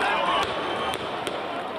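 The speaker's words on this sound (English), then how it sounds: "They are setting off fireworks aimed at police" Protesters set off fireworks aimed at police in a street crowd, and three sharp, distant pops punctuate the steady background, with a voice talking throughout.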